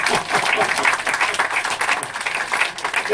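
Audience at a magic show applauding, close and fairly loud clapping with a lively, uneven texture that rises and dips over a few seconds, with voices faintly mixed into the crowd.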